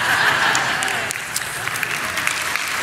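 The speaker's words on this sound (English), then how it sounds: "clapping for the joke that I wrote." A church audience claps after a joke during a sermon, with brisk applause that starts full and gradually thins, a few sharper claps standing out as it fades.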